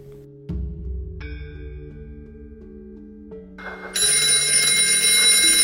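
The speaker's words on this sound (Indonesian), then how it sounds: "Telepon berbunyi." A telephone rings in an electronic, tonal pattern, shifting through a series of steady pitched notes that build to a louder, brighter ring near the end, close and clear with no voices.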